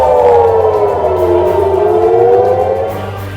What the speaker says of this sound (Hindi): लेबनान से लगे इजरायली इलाके में लगातार सायरनों की आवाज गूंज रही है